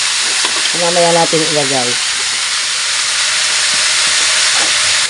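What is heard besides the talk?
pork sizzling as it is added to the hot pan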